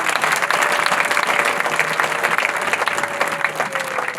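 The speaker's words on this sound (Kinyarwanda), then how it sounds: "Reka dukomere Imana amashyi" A church congregation at an ADEPR Sunday service claps loudly in praise to God, dense crowd applause sustained throughout with a faint tonal hum and scattered voices underneath.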